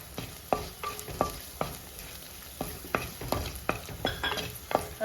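A spoon scrapes and knocks through sizzling spices and Kashmiri chili powder in a hot pan for kappa mezhukkupuratti, with repeated sharp clacks every half second or so over a steady frying hiss.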